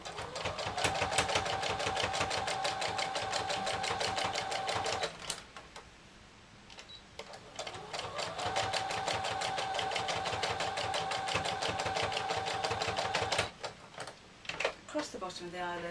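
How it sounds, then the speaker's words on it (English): Domestic sewing machine running a slow straight stitch around the outline of appliqué eyes on a Santa cushion, two long even bursts of rapid needle ticking split by a pause, close, with someone talking over it. "I'm just going to go around the outline of the eyes just with a straight stitch this time, which is number 1 on my machine"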